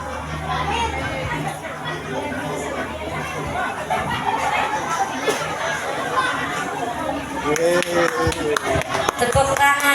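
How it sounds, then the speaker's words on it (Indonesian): At a primary school talent showcase, a crowd of children and parents chatters loudly while scattered clapping builds toward the end, with voices talking throughout. "Tepuk tangan untuk Ananda Island"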